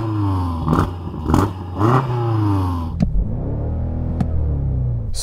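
A BMW M5 engine revs hard in three quick bursts against the soft limiter at 5,000 rpm, then settles to a rough idle with a couple of sharp clicks.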